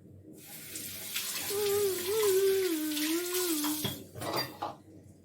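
Tap water runs steadily into a sink while a child's face is washed, with dishes clinking nearby and a high, wavering child-like vocal tone in the middle before the flow breaks into short splashes.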